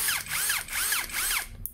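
Toyoko cordless drill-screwdriver with a hammer function revving in three close, loud bursts, each whining up and down in pitch with short pauses between, then cutting off at the end.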